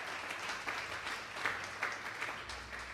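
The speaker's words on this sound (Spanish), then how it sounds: "Démosle un fuerte aplauso pues al Señor esta tarde" Applause from a church congregation during a Sunday service, a steady wash of many hands clapping at moderate distance for a few seconds, with no voices over it.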